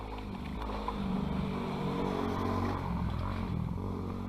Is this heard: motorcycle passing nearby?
yes